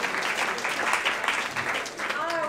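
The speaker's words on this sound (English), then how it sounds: "give them a round of applause" A school audience at a senior day event gives a round of applause, with lively clapping that swells and dips while voices call out and cheer over it.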